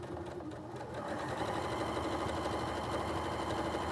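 A sewing machine stitches fabric in a steady, fast mechanical whir that runs continuously and close, with no talking over it.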